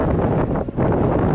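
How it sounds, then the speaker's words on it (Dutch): Strong wind buffets the microphone outdoors during a long walk, a loud continuous rumble with a brief dip midway and no voices. "Het is redelijk veel wind."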